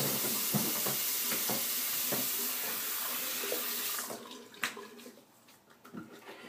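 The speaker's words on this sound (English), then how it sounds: "quick little rinse" Tap water runs steadily into a sink for a quick rinse after a shave with a 1967 British Gillette Knack razor, a broad hiss that cuts off near the end, leaving a few scattered clinks and drips.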